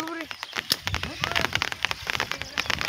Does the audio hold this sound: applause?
no